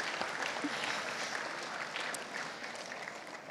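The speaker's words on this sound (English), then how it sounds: "we're going to clap" Audience clapping steadily for student athletes at a high school boosters varsity sports celebration, a broad even wash of applause from a crowd filling the room without pause.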